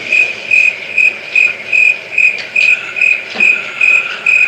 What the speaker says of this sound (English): why the crickets have to play for Joe